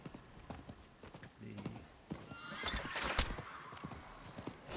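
A horse in Diablo 4 clip-clops along with rapid hoofbeats, then lets out a loud whinny in the middle, while a voice talks over the sounds.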